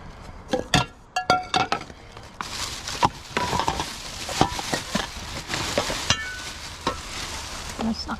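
Pots, pans and lids are handled for scrap, with a string of sharp metallic clanks and clinks at irregular intervals, then denser rattling and scraping of cookware close by, without talk.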